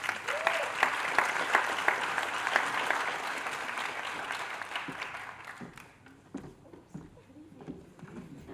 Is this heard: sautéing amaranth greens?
no